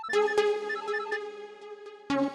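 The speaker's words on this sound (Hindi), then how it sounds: "एक मिनट, हमारा फोन आ रहा है।" A phone ringtone plays a bright melodic electronic tune with repeating struck-note chimes, loud and close, pausing briefly before starting again near the end, with no talking over it.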